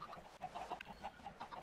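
Chickens in the Minecraft video game cluck softly and repeatedly, a string of short, quiet clucks over a steady low background hiss.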